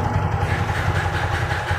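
A TVS Apache RTR 4V motorcycle engine idles steadily nearby with a soft, even, low throbbing pulse and no talking.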